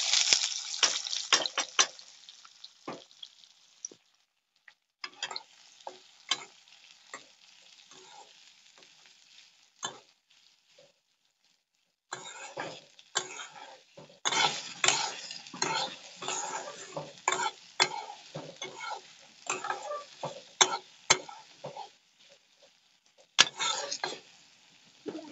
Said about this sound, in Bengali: এই তো পেঁয়াজ ভাজা হতে থাক।